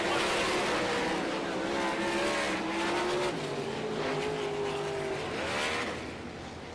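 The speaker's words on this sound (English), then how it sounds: "David Gravel steals it at the checkered flag by 15 thousandths of a second" World of Outlaws sprint cars roar past at the finish of a race at Devil's Bowl Speedway, a loud sustained engine drone whose pitch slides down and then swells again before fading.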